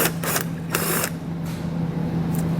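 Fasteners being worked loose with a ratcheting tool behind the taillight of a 2018 Chevrolet Traverse, a few bursts of quick clicking over a steady low hum, close and fairly quiet.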